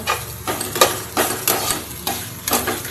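Pasta ingredients stirred together with mayonnaise in a pan, heard as rhythmic scraping strokes about twice a second with light clinks of the utensil, close and fairly loud, no talking.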